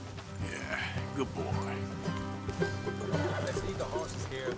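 Horses in the video game Red Dead Redemption 2 clop their hooves and whinny close by, mixed with game music and voices throughout.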